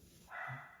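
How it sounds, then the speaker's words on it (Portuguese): A dog gives one brief bark, faint and distant, against a quiet indoor background. "É por isso que a Gigi tá latindo igual a louca"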